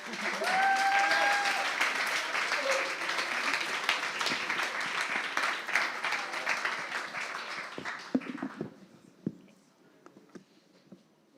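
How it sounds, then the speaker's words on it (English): A conference audience applauds loudly and steadily for several seconds at a closing session, the clapping thinning out and fading to scattered claps near the end. "So here's your applause."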